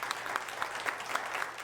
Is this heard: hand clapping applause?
yes